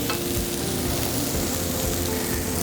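Cutlets for Cajun country fried steak sizzle in hot oil, a dense, steady crackling and spattering heard up close with no talking.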